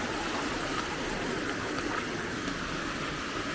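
Fresh water streaming at Hin Lad Waterfall, a steady broadband rush of flowing water that holds constant and close throughout, with no voices over it.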